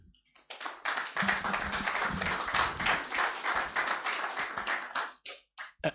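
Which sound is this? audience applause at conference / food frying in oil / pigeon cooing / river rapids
audience applause at conference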